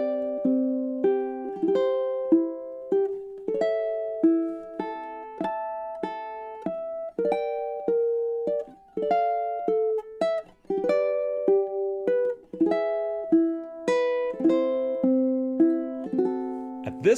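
Solo ukulele plays the A melody of Chopin's Nocturne Op. 9 No. 2, a steady stream of plucked, lilting notes with gentle chords, close and moderately soft, unaccompanied and without speech.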